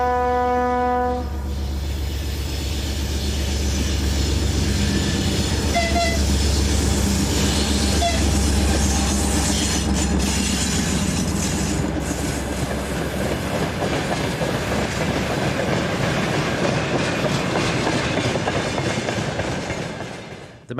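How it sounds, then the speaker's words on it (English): A long freight train of empty wagons hauled by an M62 diesel locomotive rumbles past nearby, opening with a horn blast, then continuous clattering wagons and a heavy engine drone fading at the end. "the M62 returns with its train of empties."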